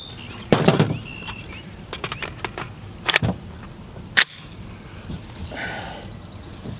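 American Eagle Fresh Fire rounds fired outdoors, a year after purchase, give several sharp, loud reports: a single shot, then a quick cluster of shots, and two more spaced blasts, each ringing briefly over a quiet outdoor background.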